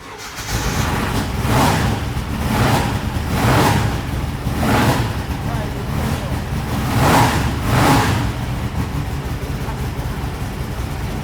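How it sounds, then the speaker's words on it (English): A bus engine starts and then runs with a rough, pulsing rhythm of repeated surges, fairly close and loud throughout, while people talk faintly beside it. "let's hear the bus purr"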